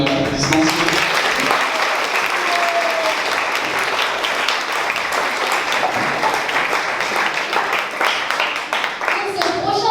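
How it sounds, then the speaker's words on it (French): Loud, sustained audience applause at a talent show, dense clapping from a large crowd filling the whole stretch without letting up, fading slightly near the end. "Est-ce qu'on peut encore les remercier avec un tonnerre d'applaudissements?"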